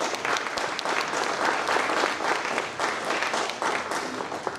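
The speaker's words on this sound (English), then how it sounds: "Go ahead, clap." Audience applause at an arts council annual meeting as a scholarship winner comes forward: steady, dense clapping from a room full of people, sustained at even loudness for several seconds.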